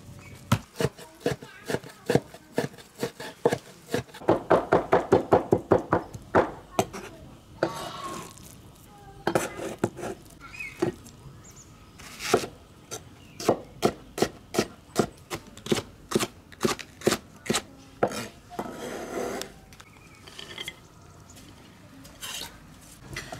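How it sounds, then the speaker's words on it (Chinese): Knife chopping meat, green chilies, onion, scallion and ginger on a wooden board in a rural kitchen, a long run of sharp rhythmic knife strikes, close and loud, with fast bursts and brief pauses. "现在把这些都切碎"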